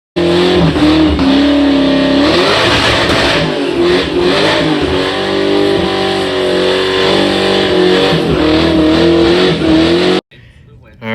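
A 2003 Cobra's engine runs loud and close, revving hard in rising and falling surges for about ten seconds before cutting off abruptly.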